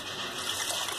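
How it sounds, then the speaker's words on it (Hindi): Water from a glass poured into a cooking pot of fried masala for Hyderabadi baigan gosht, a steady close trickling gush lasting about a second with no talk. "अब हम इसमें एक गिलास पानी ऐड कर देंगे।"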